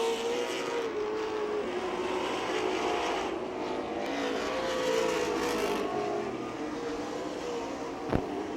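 Race cars roar around a speedway oval, a sustained loud engine drone with shifting pitch as they lap, steady throughout with a brief sharp click near the end.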